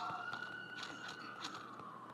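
Ambulance siren wailing steadily at a distance beneath a busy mix of mobile fighting-game effects, continuous for the whole short stretch.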